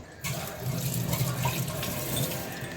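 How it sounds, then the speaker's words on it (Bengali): Tap water runs steadily into a sink as hands are washed beneath it, a continuous close splashing hiss with no talking. "আগে এখানে একটু হাতটা ধুয়ে নিই।"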